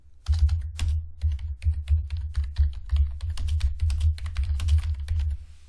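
Steady clatter of keys on a computer keyboard, close and fairly loud, a run of quick irregular keystrokes with no voice.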